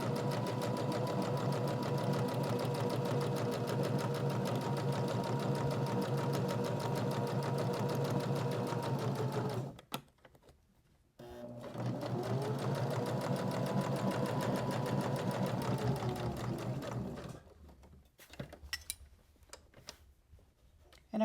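A sewing machine stitches a fabric journal cover in two long, fast runs of rhythmic needle clatter, pausing briefly between them as the fabric is turned.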